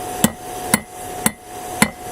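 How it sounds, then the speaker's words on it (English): Four sharp hammer blows on metal while forging a wrench knife, evenly spaced about half a second apart, each a bright clank with a short ringing tail over a faint steady hum. "I don't have enough practice with the hammer, so my hits are not very accurate."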